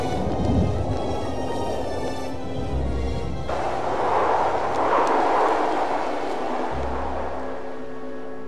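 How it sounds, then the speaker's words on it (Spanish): A roaring sandstorm sweeps across a desert pool in prehistoric Pangea, a loud, continuous windy rush with deep rumbling surges that swell and fade throughout, heard alone. "La tormenta de arena lo barre todo, enterrando el charco por completo."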